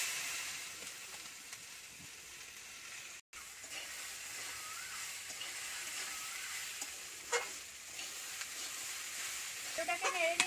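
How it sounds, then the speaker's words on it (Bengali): Small chopped potato pieces sizzle in hot oil in a kadai for samosa filling. A steady, bright frying hiss holds throughout, with a brief break and a few scraping stirring clinks near the end. "আলুটাকে পুরো ছোট ছোট করে কেটেছি, এই দেখুন, এটাকে এবার আমি তেলের উপরে দিয়ে দিচ্ছি"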